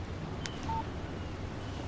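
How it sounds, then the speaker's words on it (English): A short electronic phone alert for an incoming text message chimes once in the game Alan Wake Remastered, a brief bright tone over a low steady ambient hum. "Text message from Barry."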